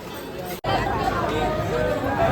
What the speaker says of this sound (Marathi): गर्दी खूप आहे, अतिशय गर्दी आहे